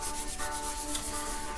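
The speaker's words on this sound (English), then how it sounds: "sanding that back now, and it looks like got real close to being finished and ready to paint this hood" Steady, close rubbing of sandpaper as guide coat is sanded back on a car hood before painting. It runs without pause and no voices.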